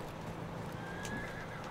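A horse neighs in Battlefield 1, a thin whinny riding over a constant rumble of battlefield noise with hoof clatter, fairly faint within the mix.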